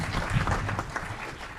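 A short round of applause at an Aurora city council meeting honoring a graduate: a brief, moderate patter of clapping from a modest room of people over a low background rumble.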